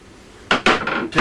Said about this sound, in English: pot of salted water.